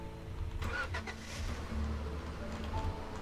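A pink truck's engine in Roblox Lumber Tycoon 2 cranks over and settles into a steady, low idle hum that runs throughout.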